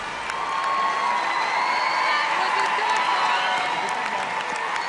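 On America's Got Talent, the audience and standing judges applaud a magician's act with sustained clapping and scattered whoops, rising quickly and holding at a steady, loud level.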